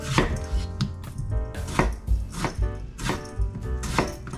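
A knife slices fresh tomatoes for sinigang on a cutting board, giving a quick, regular series of crisp chops that sit close and clear, with no one talking.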